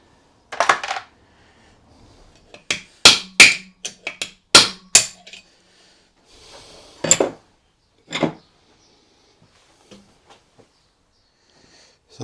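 Sharp metallic hammer blows drive a sleeve out of a disassembled MZ TS250 two-stroke motorcycle engine. The strikes are loud and close, with a quick cluster of four in the middle and a few irregular, softer taps spaced apart by quiet gaps.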